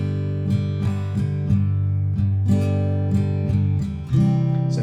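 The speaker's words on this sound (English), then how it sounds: "we're going to be using both thumb and index in this strum" Guitar strummed without a pick, thumb on the downstrokes and index finger on the upstrokes, in a close, even rhythm of bright chords changing every few beats, with no voices.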